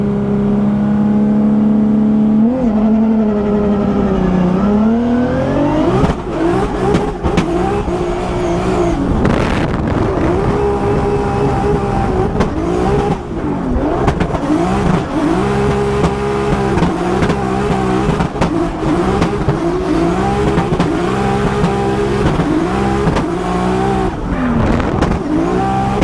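A Formula Drift car at Englishtown revs hard and bounces off the limiter, its engine note rising and falling while tires squeal through a competition run, loud and continuous.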